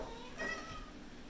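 A cat meows once, faint and short, in a home kitchen where soup is being cooked.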